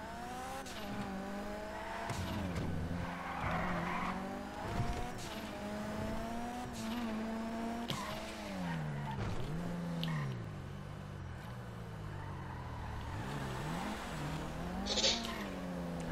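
Car engine revving and shifting pitch while driving and skidding in the video game GTA V Online, a continuous motor whine with tire noise, loud and close throughout, no talk.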